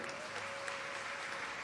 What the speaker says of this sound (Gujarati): ખરેખર બધાને તાળીઓથી વધાવી લો